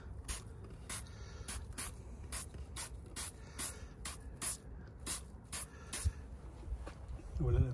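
Autobead acid wheel cleaner is sprayed onto a car wheel in a quick run of short trigger-pump bursts, about a dozen evenly spaced hisses, fairly close and soft.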